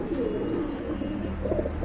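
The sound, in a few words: pigeons cooing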